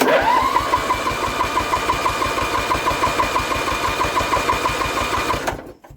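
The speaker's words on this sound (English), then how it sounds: "it's cranking the engine, which is really good news" A Wheel Horse garden tractor's starter motor cranks the engine steadily for about five seconds, a fast rhythmic churning whine that never catches and fire, then stops abruptly.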